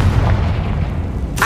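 A deep, booming blast from the Confringo spell in Hogwarts Legacy rumbles heavily through the low end, with a sharp crackling burst at the very end.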